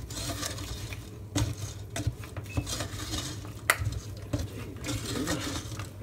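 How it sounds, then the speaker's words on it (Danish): Almonds stirred in hot sugar in a pan for burnt almonds, with a spoon clinking and scraping against the pot and irregular small cracks and pops, close and moderately quiet, no talk. "Du kan høre mandlerne knækker."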